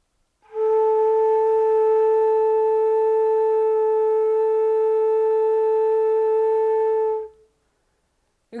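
A single sustained daegeum (Korean bamboo flute) note, clear and steady, held for about seven seconds with a pure, stable tone, played alone.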